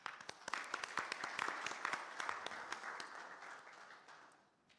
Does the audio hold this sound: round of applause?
yes